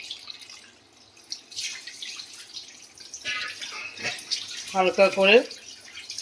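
Hilsa fish rinsed under a running tap: water splashes and trickles with intermittent drips, growing louder toward the end, while someone speaks over it.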